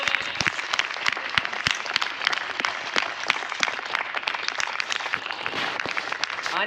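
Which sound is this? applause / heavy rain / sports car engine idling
applause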